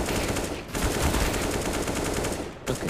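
AK rifle gunfire in CS:GO: rapid, loud automatic bursts firing nearly nonstop, broken by two short pauses.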